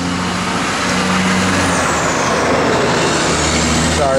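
A large truck rolls past on the road near a parked 1967 Chevrolet Malibu, a steady broad roar holding loud and close throughout with a brief hiss near the end.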